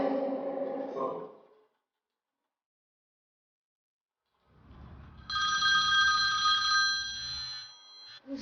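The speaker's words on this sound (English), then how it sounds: "Who's that? Phone." At a festival talk, a telephone rings loudly for a couple of seconds after a brief voice and a stretch of silence, a sustained electronic trill that stops abruptly.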